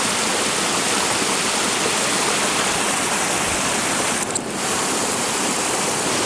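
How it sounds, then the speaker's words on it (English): A waterfall in Neffs Canyon roars as a steady, loud, close wash of rushing water with no break, and no voices over it. "because it's a waterfall."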